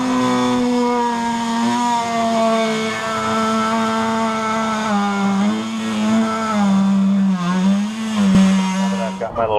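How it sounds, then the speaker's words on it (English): An oscillating vibratory saw plunge-cuts through a painted boat hull for portlight openings, a loud, steady, buzzing whine that holds for several seconds and wavers slightly in pitch near the end. "First thing I do is plunge through with a vibratory saw."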